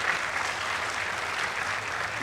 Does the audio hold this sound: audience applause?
yes